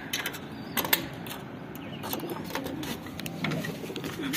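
Pigeons in a loft coo softly over a steady background hum, with a few scattered rustles and flutters from birds moving nearby.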